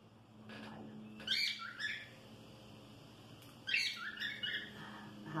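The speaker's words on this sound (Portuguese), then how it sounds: "Radassa comendo ração extrusada da Zootécnica" A cockatiel eats extruded feed pellets, making two short bursts of close crunching and pecking at a bowl over a steady low hum, with no voices.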